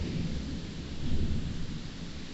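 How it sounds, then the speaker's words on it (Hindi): Heavy rain pours down steadily with a low rumble of thunder rolling through it, a dense, continuous wash of sound with no voices. "आज बारिश बहुत ही तेज है,"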